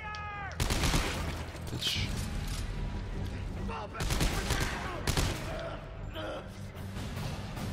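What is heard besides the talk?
gunfire in the video game Dead Space 3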